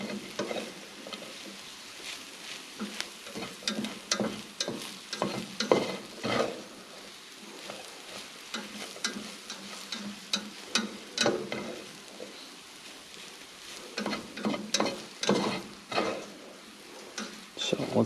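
A chicken burger mixture is stirred in a deep, non-nonstick pan, producing quiet, irregular scraping and clicking strokes with a faint sizzle, continuing steadily throughout.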